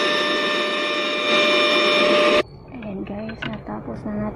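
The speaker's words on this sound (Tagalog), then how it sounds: "Natapos na natin ang vacuum." A vacuum machine runs with a steady, loud mechanical hum while a snoring appliance is being made, then cuts off abruptly midway, leaving a person talking close by.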